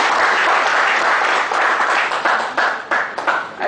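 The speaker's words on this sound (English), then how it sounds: "Big round of applause, ladies and gentlemen." Seminar attendees at a talk on GST accounts finalization give a speaker a full round of applause, sustained and loud at first, then thinning into scattered claps as it tapers off.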